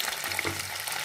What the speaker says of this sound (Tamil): அதை எடுத்து இந்த ஆயிலில் போட்டுக்குவோம்.